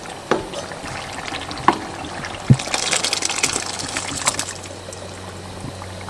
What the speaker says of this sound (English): I'm going to add my blended tomatoes.